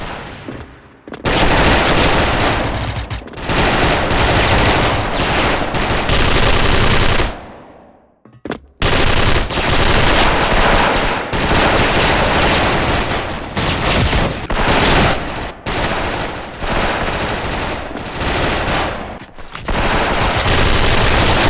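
XM8 rifle fire in the shooter game Special Force, long loud sustained automatic bursts from close range, broken by brief pauses and one near-silent gap partway through.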